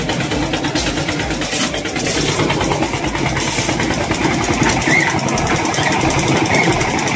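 A construction hoist engine runs steadily on an Indian building site, lifting material up to the roof, with a continuous mid-pitched rumbling drone that holds near and loud throughout without pause.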